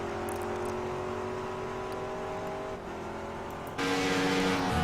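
A McLaren race car drives on a racing circuit, its engine droning steadily with a sustained tonal whine that dips briefly and then swells louder near the end, with no voices over it.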